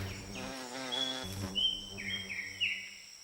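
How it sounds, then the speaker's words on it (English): Native bees buzz-pollinate rainforest flowers, their vibrating buzzes rising and falling in tonal, droning bursts that sound close and fairly loud over steady background hum. "the native bees feed on pollen and nectar, and some of the flowers need to be vibrated to release their pollen reward"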